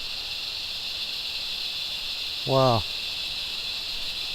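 Steady, dense cicada buzzing fills the Australian bush at Mount Tamborine throughout, with a single voice exclaiming briefly over it.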